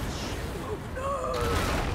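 A loud, rumbling blast and roar from an explosion aboard a ship in the video game Divinity: Original Sin 2, with sustained low booming and crackling tones filling the whole moment.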